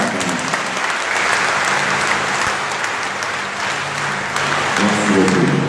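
A church congregation at a Sunday Mass applauds, a steady, full round of clapping that carries on evenly throughout with faint voices underneath.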